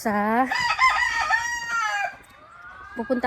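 Laying hens and a rooster at a small farm, with loud, close crowing and clucking that fills the clip in repeated calls.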